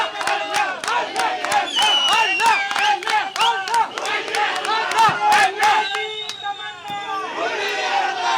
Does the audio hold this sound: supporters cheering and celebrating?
yes